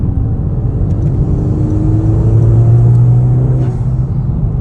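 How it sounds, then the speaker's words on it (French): A Honda Civic Type R FK2 engine drones steadily from inside the cabin, a low rumbling intake hum that rises slightly in pitch as it pulls. "vrai bruit d'admission et tout"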